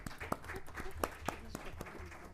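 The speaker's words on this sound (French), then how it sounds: "je vous demande un tonnerre d'applaudissements pour Sophie." Conference audience at an African renewable energy financing event gives quiet, scattered applause, a few louder distinct claps standing out from a soft, distant patter.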